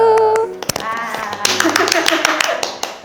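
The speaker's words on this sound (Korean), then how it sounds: "박수!" A voice calls out at an art academy award announcement, then a small group claps hands in quick, uneven bursts that keep going to the end.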